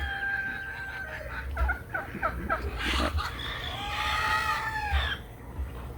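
Ducks in a backyard garden quack and chatter in a short flurry of close, repeated calls over a low background rumble, with no talking.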